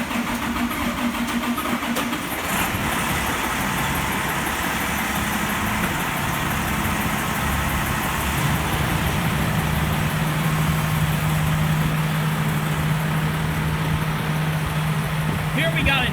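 Fire apparatus, including a 2000 Pierce Dash 105-foot ladder truck and a 2010 Pierce Quantum engine, idling while responding to a building fire: a continuous low engine rumble with a steady hum, close and moderately loud, under background noise.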